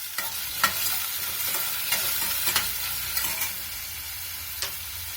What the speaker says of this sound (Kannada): ಈಗ ಕ್ಯಾಪ್ಸಿಕಮ್ ಒಂಚೂರು ಫ್ರೈ ಆಗಿದೆ